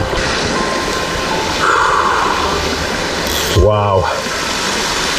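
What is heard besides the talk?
waterfall pouring into plunge pool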